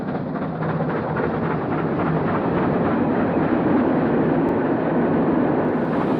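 A loud, rumbling steam locomotive roars past close by in the rain, a dense continuous clatter and chuffing that stays strong throughout without letting up.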